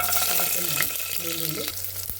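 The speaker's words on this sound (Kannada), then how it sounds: "ಈ ಕುಕ್ಕರ್ ಇಟ್ಕೊಂಡು ಸ್ವಲ್ಪ ಎಣ್ಣೆನ ಆ್ಯಡ್ ಮಾಡಿಕೊಂಡು ಇದಿಷ್ಟನ್ನು ಹುರ್ಕೊಳ್ತೀನಿ" Lentils and spices fry in hot oil inside a pressure cooker, a steady close sizzle running the whole time with light stirring scrapes.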